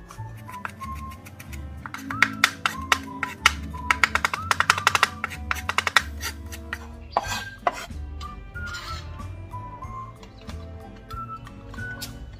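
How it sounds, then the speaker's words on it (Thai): Garlic minced with a knife on a board gives fast, dense clusters of sharp chopping taps, close up, thinning into scattered light knocks toward the end. "กระเทียมเราก็สับให้เป็นชิ้นเล็กๆเหมือนกันนะคะ"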